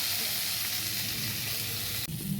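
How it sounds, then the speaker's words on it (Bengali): Potatoes sizzle steadily as they fry in oil in a pan while a Bengali cabbage dish is prepared, a continuous close hiss with a brief dip near the end, and no talking. "এবার আলুটাকে আমি লাল করে ভেজে নেব"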